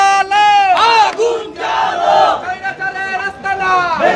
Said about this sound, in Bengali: দেখছেন ছাত্র জনতা এখানে স্লোগান দিচ্ছে